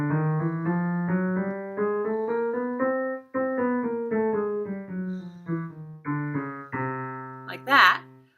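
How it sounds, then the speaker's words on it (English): A chromatic scale played in consecutive half steps, with sustained pitched notes stepping up and then back down in an even rhythm, clear and close, followed by a brief vocal sound at the end. "a chromatic scale, which is composed of all half steps"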